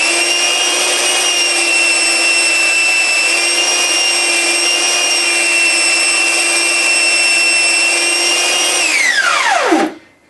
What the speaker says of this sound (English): Now I'm going to turn the sander on with my foot switch.